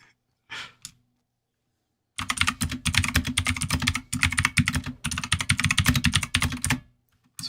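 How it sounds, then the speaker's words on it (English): Rapid, loud typing on a computer keyboard, dense clattering keystrokes in bursts with a short pause midway, preceded by a quiet breath or sigh and near silence. "Sorry about the keyboard, give me 1 second."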